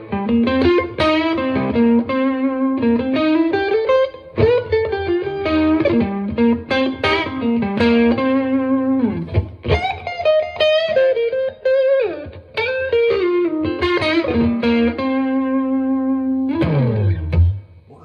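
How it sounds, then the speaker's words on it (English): Electric guitar played through a Fender Mustang GTX100 amp on its Vibro King model, a continuous melodic line of sustained bent notes and chords, loud and close with a warm tremolo-tinged tone, no talking. "That is a great sample of the Vibro King."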